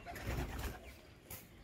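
Old pigeons coo softly close by, a short, low murmuring burst with a faint second call near the end, quiet and without talk.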